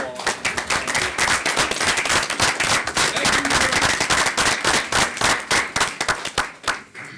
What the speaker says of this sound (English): can give our parents a round of applause